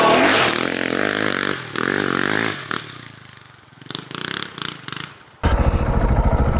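A KTM 690 Enduro motorcycle climbing a steep hill, its single-cylinder engine revving hard and loud close by, then dropping into choppy bursts of throttle before a sharp, roaring surge at the end.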